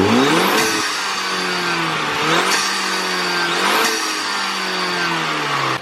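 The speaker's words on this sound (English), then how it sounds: "give it a couple of revs with the air filter on" A car engine is revved hard three times with its air filter fitted, each rev climbing steeply in pitch and then dropping back to a steady idle, loud and close with no talking.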